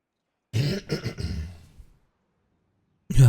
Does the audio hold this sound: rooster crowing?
no